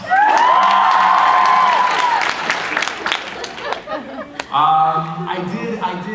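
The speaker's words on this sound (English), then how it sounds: "I'm going to say this just to get an applause right now." A burst of fan convention audience applause and cheering at a celebrity Q&A, loud and close, with a voice rising over the crowd partway through.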